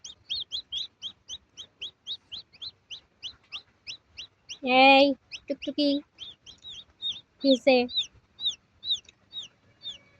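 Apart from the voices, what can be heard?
hen clucking and baby chicks chirping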